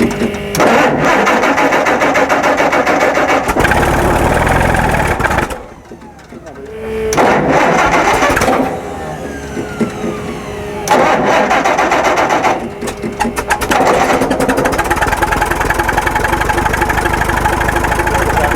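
A dead-battery Tucker, its horizontally opposed six-cylinder, cranks and catches after a jump start, then settles into a loud, steady idle with a few revs, with a brief lull partway through and people talking nearby.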